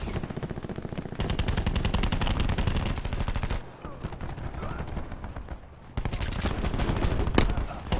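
Close, loud automatic gunfire in a Black Ops 4 team deathmatch, long rapid bursts separated by two brief pauses, the rounds firing in a fast even rhythm.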